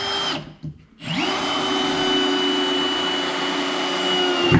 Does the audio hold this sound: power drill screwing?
yes